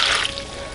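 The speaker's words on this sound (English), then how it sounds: "And to this we're adding 6 cups of water" Water is poured from above into a pot of rinsed baby lima beans, six cups in all. It makes a brief, steady splashing trickle, close and fairly loud, with no talking.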